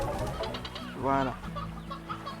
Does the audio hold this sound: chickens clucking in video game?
yes